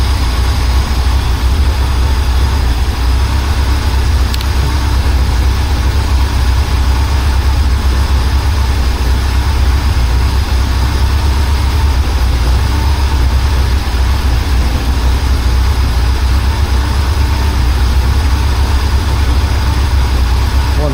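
A BMW 2002 engine runs steadily at around 3,800 rpm, producing a continuous low rumbling drone with a slightly uneven, wavering tone and no speech over it.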